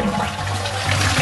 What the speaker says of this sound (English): Stephanie, go into one of your toilets and we want to hear you flush the jacks